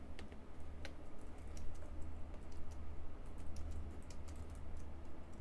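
Computer keyboard typing, fast and irregular, with clustered key clicks over a low steady hum. The keystrokes sound close and fairly quiet, and no one speaks.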